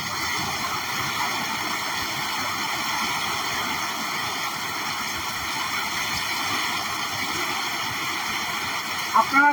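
Rain falls at night as a constant, even hiss of water, steady throughout with no talk over it.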